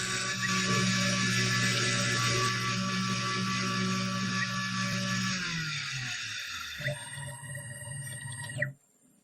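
A CNC engraving bit cuts aluminum on a 4th-axis rotary table at a high feed rate, giving a sustained, loud, high-pitched tonal whine with spindle hum beneath, sliding lower and stopping near the end.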